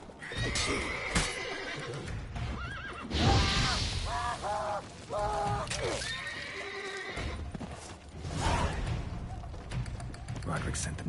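Several horses whinny and neigh in The Witcher 3: Wild Hunt, loud repeated calls over clip-clopping hooves and game ambience, with voices talking at times.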